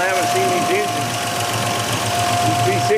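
An old GMC work truck's V6 engine from the early 1960s idles with a steady, loud, continuous mechanical drone and an even, rapid knocking pulse throughout.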